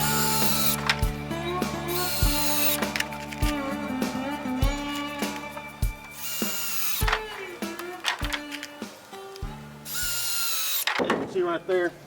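A power drill drives screws into wooden boards while a guillotine-style trap door for wild pigs is being built, with repeated whirring bursts that start and stop, close and loud, plus clunks from handling the boards.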